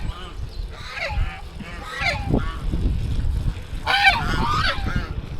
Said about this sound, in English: Road geese.